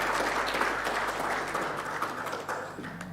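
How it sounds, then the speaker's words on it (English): Sustained applause from colleagues at a colloquium marking a centre of excellence launch, many hands clapping fairly close in a room with a low hum underneath, tapering slightly toward the end. "Can you give yourself a round of applause"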